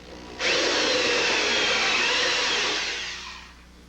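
A power drill whirs steadily for about three seconds while drilling a hole for a Honda ST1100 motorcycle auxiliary tank, starting abruptly and winding down at the end, loud and close with no talking.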